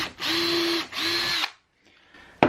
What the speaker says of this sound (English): pre-drill here.